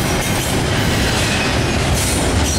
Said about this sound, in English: Yeah, 211, pretty big train today.